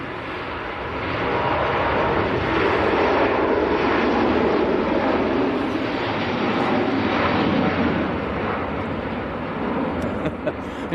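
A jet airliner rolls down the far runway at Manchester Airport on its takeoff run, a broad roaring rumble that swells and holds steady at a distance before easing off.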